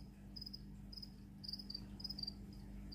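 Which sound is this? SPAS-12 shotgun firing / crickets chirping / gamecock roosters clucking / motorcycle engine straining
crickets chirping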